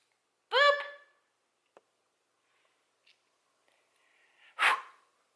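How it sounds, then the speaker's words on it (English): A dog gives one sharp snorting sneeze near the mic, followed by faint clicks and a second breathy sneeze a few seconds later, with quiet gaps between. "you're sneezing all over me"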